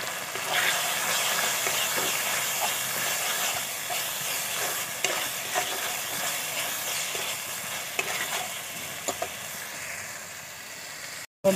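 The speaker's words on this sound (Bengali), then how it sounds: "1 চামচ জিরের গুঁড়ো, 1 চামচ ধনের গুঁড়ো। আবার ভালো করে কষাবো।" Chilli, cumin and coriander powder sauté in hot oil, giving a continuous bright sizzle with occasional scrapes of a stirring spoon, close and fairly loud throughout before an abrupt cutoff.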